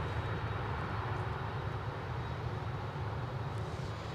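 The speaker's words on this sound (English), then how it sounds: "Listen for the reversers. Big bass right now." A jet airliner landing at Anchorage rumbles in a dense, heavy roar with strong low bass from its thrust reversers, steady and fairly distant, with no talking.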